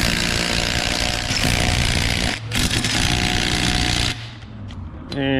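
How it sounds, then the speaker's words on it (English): A 1/4-inch impact driver drives bolts back in, hammering loudly and continuously at close range, with a short break in the middle and a second burst afterward. "Since the 1/4-inch driver took these off, I want to see how tight it will make them going back on."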